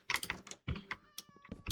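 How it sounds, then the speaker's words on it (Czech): A cat in the video game Minecraft gives short meows, heard close by amid quick clicking and tapping sounds. "Tam někde mňaukla"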